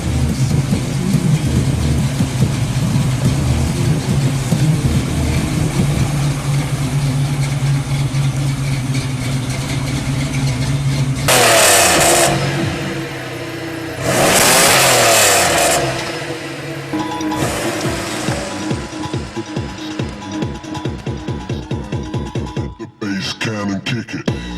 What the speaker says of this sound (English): We're going to let you listen to the exhaust and hear the sub in action.